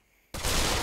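A single sharp gunshot in a VR shooting game on an HTC Vive bursts in suddenly after near silence, followed by a loud sustained blast and ring-out.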